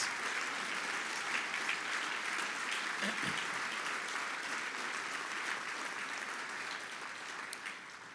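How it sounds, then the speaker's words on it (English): Sustained applause from a gala audience at a Harrisburg University event, a dense steady wash of clapping that holds loud throughout and tapers slightly near the end. "Join me in one more round of applause for Ben, Inez, their family, and friends."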